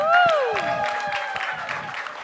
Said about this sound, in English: Big round of applause for all of them.